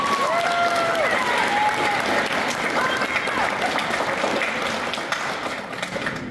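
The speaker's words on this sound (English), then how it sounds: "So I think that deserves a round of applause." An audience claps steadily at a high school midwinter band concert, a full dense burst that tapers slightly near the end, with a few faint voices mixed in.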